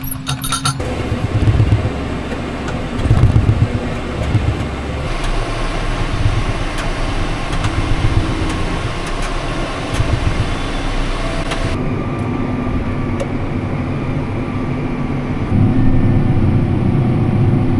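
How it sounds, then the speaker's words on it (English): A farm tractor idles and runs steadily close by during hay work, with a continuous low engine rumble throughout and a few light metallic clinks on top. "I'm gonna unhook this tractor and rake"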